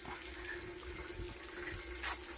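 Water runs steadily from a tap near a waterfall and dam site, a continuous faint splashing stream with no talk.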